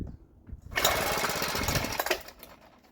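Weed eater two-stroke engine being pull-started with the choke on: a quick cord pull followed by a rough, loud burst of sputtering engine noise lasting about a second and a half before fading.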